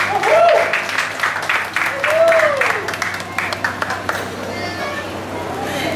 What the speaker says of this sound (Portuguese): uma salva de palmas bem enorme para o nosso aniversariante